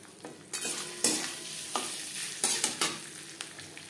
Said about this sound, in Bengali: মিক্সড করতে থাকবো আর নাড়তে থাকবো।